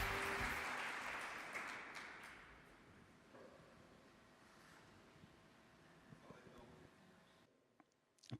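An audience claps for a speaker at a talk. Dense applause is loudest at the start, then thins and fades over several seconds to near quiet.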